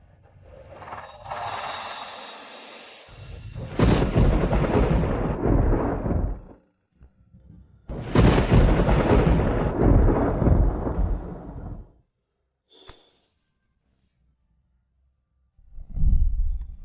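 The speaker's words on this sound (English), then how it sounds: "The thunder outside is too loud." Loud thunder rolls outside a palace chamber in a period drama, heard as long booming rumbles separated by brief silences, with one sharp crack and a final swell rising near the end.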